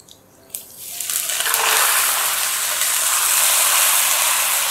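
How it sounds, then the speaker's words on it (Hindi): Chicken yakhni stock is poured into a pot of cumin, cloves and black peppercorns for chicken moti pulao. A steady, close rush of liquid builds after a short clatter and then continues evenly. "और इसमें डाल देंगे ये यखनी वाला पानी।"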